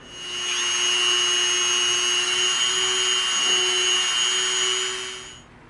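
A Dremel rotary tool fitted with a round bit carves into EVA foam, giving a steady high-pitched whine with a grinding buzz that holds close and loud for about five seconds, then cuts off.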